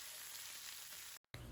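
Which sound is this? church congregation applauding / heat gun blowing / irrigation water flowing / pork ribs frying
pork ribs frying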